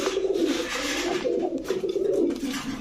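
Pakistani Jhak Babra pigeons coo steadily in low, throaty rolling calls, several birds overlapping close by with no talking.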